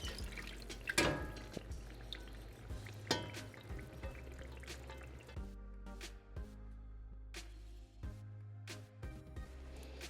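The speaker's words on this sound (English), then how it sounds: "so now we're going to add the beef broth." Beef broth poured into reduced, fried stew for beef jollof rice, a quiet close splash and glug at the start followed by soft scattered drips and bubbling, with no talk.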